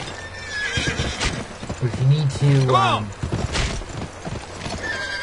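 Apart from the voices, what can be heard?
horse neighing and hooves in video game Gun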